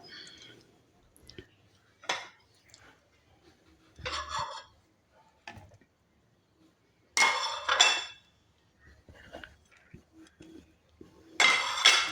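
Banana and coconut being mixed in a bowl for a snack, heard as scattered clinks and scrapes of a utensil against the bowl in short bursts with quiet gaps between.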